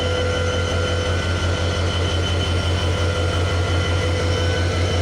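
The Barendra Express train arrives at a Bangladeshi station at night with a steady, loud mechanical drone, a low pulsing locomotive engine hum and a constant whining tone that stays level throughout.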